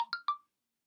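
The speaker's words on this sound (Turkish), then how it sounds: "Bildirim geldi." A short phone notification chime of three quick bright tones, clean and close, then silence.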